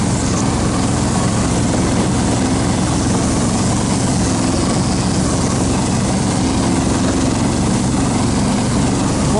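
Snowmobile engine pushing through deep snow in the taiga, a loud, continuous droning roar close by that holds steady without pause or talk.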